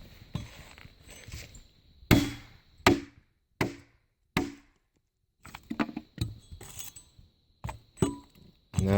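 An axe, held in one hand, chops a notch into a sill log for a small cabin foundation, sharp close strikes landing one at a time with short pauses between them.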